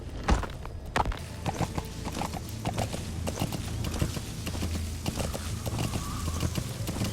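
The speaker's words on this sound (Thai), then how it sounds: "เราจะพยายามขี่ม้าเข้าไปใกล้ที่สุดเท่าที่จะใกล้ได้" Galloping horse hooves in Metal Gear Solid V: The Phantom Pain, a steady rapid clip-clop close and continuous for the whole stretch over a low rumble, with no talking.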